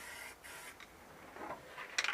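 An aerosol spray can of paint hisses onto a repaired car floor pan in a Nova, in short bursts with brief gaps and a sharper final spurt, close up and alone.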